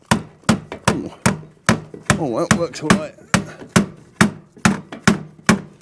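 A slating hammer strikes slate on a stone barn roof in a steady series of sharp, close knocks, about two each second, and someone speaks briefly partway through.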